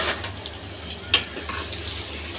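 Pieces of raw pumpkin are lifted out of hot frying oil: a soft steady sizzle with light stirring scrapes and one sharp clink of the utensil against the pan, close and without speech.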